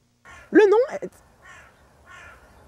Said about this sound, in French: D'accord, il y a un corbeau.